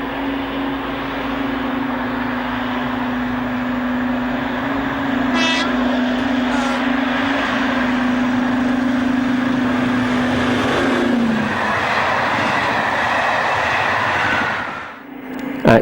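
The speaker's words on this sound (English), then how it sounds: "the northbound service passes Spittal behind" Class 55 Deltic diesel locomotive hauls a northbound train past Spittal, a loud sustained engine drone with a long horn note that fades out as the train passes, plus brief squeals along the way.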